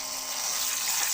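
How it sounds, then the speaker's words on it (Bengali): Water splashing steadily as potato slices are rinsed in a bowl, a constant close wash of sound with no pauses and no talk. "এটা ধোয়ার সময় যতক্ষণ জল পরিষ্কার না হবে ততক্ষণ ধুয়ে যেতে হবে।"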